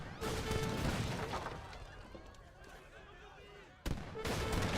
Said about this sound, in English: And 4 light cannons will completely shut down this push from Minimoult.